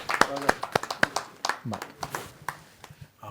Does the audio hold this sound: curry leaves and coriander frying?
no